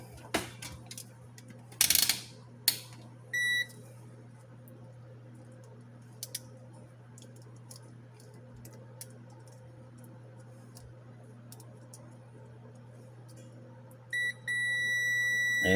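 A multimeter checks continuity across a half-amp fuse from a Heathkit IG-1272 audio frequency generator, giving short, faint electronic beeps early on and then a sustained beep near the end, with quiet handling clicks between.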